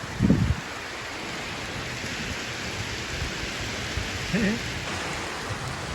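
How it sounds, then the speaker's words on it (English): Steady rain hisses outside a workshop where tyre changes and oil top-ups on a tractor are under way, a constant wash of noise with two brief, faint voice fragments. "I think it's raining"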